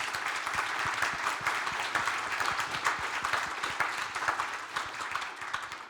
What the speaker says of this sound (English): Please, a round of applause for our distinguished guests and speakers.